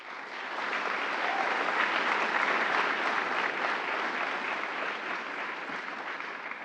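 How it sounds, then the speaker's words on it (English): A large crowd at an ROTC commissioning ceremony claps in a long, dense round of applause that swells and stays loud, then eases slightly toward the end. "How about another big round of applause for this year's commissionees?"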